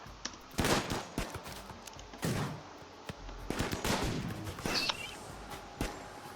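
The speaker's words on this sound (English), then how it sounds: "We're terrible at shooting, which doesn't help." Gunfire in the colony game RimWorld: scattered bursts of shots crackling at moderate distance, irregular single cracks and short volleys over a low background hum.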